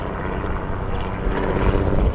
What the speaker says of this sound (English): I've got a helicopter coming through.